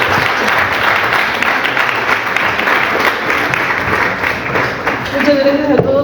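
A conference audience in Puebla gives a strong, sustained round of applause, dense clapping filling the room, with a voice starting to speak at the very end.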